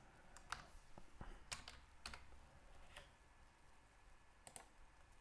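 Quick, faint typing on a computer keyboard, scattered key clicks arriving in small bursts with pauses, alone in a quiet room.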